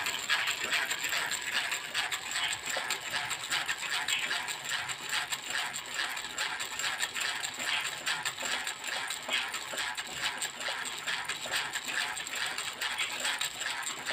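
Wire being wound by hand into a small spring for a banjo, giving a steady, continuous metallic ratcheting and clicking texture close up for the whole stretch, with no talk.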